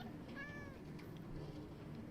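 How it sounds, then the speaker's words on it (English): A yellow cat in Minecraft gives one short, clear meow near the start, rising then falling in pitch, followed by quiet game ambience with no talk. "We have a very pretty yellow cat."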